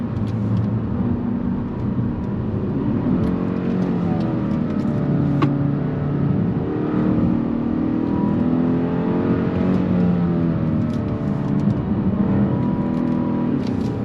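A 2022 Kia Stinger GT-Line under way, its engine droning steadily with rising and falling pitch as it accelerates and eases off, loud and continuous with road and tyre noise beneath.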